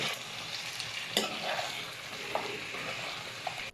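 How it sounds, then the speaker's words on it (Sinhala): Chicken frying in a pan as it is stirred, a steady close sizzle broken by a few sharp scrapes and clinks of the spoon against the pan, with no talking. "ඔන්න චිකන් එක දානවා. චිකන් එක දාලා කලවම් කරලා ගන්න තමයි තියෙන්නේ."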